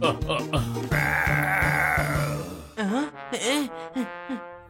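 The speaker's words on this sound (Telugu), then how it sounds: "దారి కట్టంగా ఈ మేకలు ఎలా వచ్చాయి?" Goats bleat in a children's cartoon: several wavering, nasal cries follow one another near the end, after a stretch of busy cartoon music and effects.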